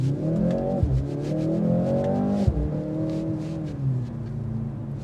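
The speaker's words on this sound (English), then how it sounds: "You can hear the exhaust filter into the interior." A 2025 Mercedes-AMG C63 S E Performance engine revs hard in Sport Plus mode and pulls through gears, the tone climbing, dropping at a shift, then climbing again, heard loudly from inside the cabin.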